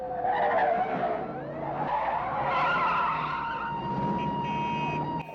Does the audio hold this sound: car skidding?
yes